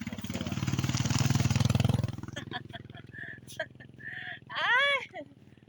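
A motorcycle engine idles nearby with a steady low rumble for about two seconds as the bike arrives, then cuts away as voices talk and call out close by.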